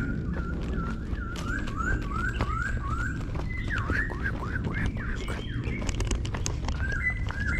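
Birds sing repeated rising whistled phrases with busy chirps and tweets over steady outdoor background noise on an early morning mountain walk.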